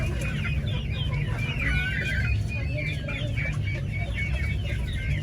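Backyard chickens cluck and chatter busily while pecking at chopped spinach, several birds close by in a continuous, overlapping stream of clucks over a steady background hum.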